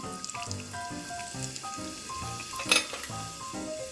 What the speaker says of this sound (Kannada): ಸಾಸಿವೆ ಇದು ಕೆಂಪಾಗಬೇಕು ಸಾಸಿವೆ ಚಟಪಟ ಸಿಡಿಬೇಕು